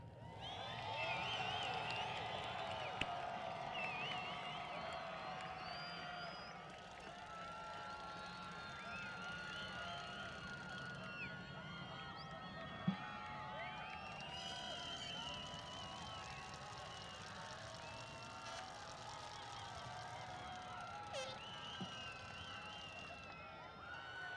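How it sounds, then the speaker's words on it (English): High school graduation crowd in a large venue applauds and cheers for parents, a continuous wash of distant clapping mixed with whoops, shouts and whistles. "Seniors, get up and let's give our parents a round of applause."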